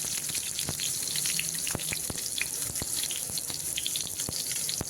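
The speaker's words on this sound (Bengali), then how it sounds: "তেল গরম হয়ে গেছে, প্রথমে বেগুনগুলো ভেজে নিচ্ছি।" Diced eggplant pieces fry in hot oil in a pan, a steady close hiss with scattered sharp pops and crackles throughout.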